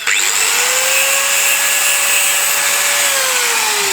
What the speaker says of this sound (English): Hit the grinder.